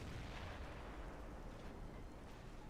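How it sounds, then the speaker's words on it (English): Mortar shell impacts in a tournament match of a military strategy game, heard as a dense, continuous rumble of distant explosions and booms with no single sharp hit standing out. "Oh, the 150 mortar got a good hit"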